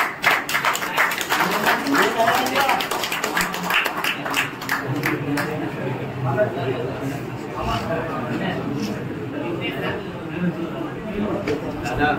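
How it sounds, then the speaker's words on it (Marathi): An audience claps at a village ceremony honoring students in Digwale, Kankavli, with brisk, dense applause early on that thins out and gives way to mixed chatter and speaking voices. "टाळ्या वाजवायच्या आहेत."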